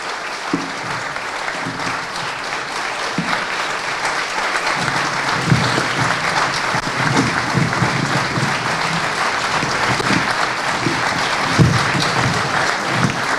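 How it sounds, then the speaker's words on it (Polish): An audience at a film premiere applauds the film's creators as they come on stage, steady dense clapping filling the whole stretch at a fairly loud, even level with no talking. "Zapraszamy, gorące brawa."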